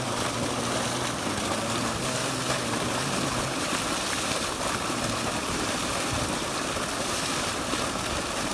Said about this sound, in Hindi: तो पानी की आवाज़ है कच कच कच कच कच, इधर ट्यूबल लगा हुआ है जी